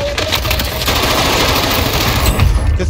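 Loud, sustained machine-gun fire rattles without pause in a shooter video game, a dense close-range barrage of rapid shots with heavy low-end thump and only faint voice in the background.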